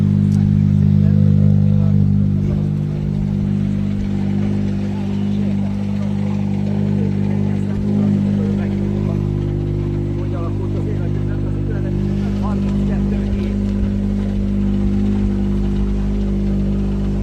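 A rally car arriving at the end of a Rally Hungary 2021 special stage: steady, loud engine drone with a low rumble throughout, under a commentator talking.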